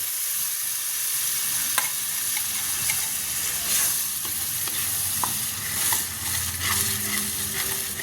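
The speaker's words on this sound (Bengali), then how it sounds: "করে বেটে নেওয়া পালং শাকটা এর মধ্যে আমি দিয়ে দিলাম।" Ground boiled spinach paste sizzles and fries steadily in a pan while being stirred, with occasional scrapes and clicks of the utensil against the pan, close and fairly loud throughout with no talking.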